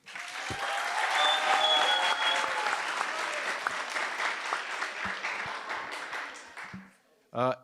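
Audience applause after a debate, steady and full from the start, holding for about six seconds before tapering off, with a brief burst of voices at the very end.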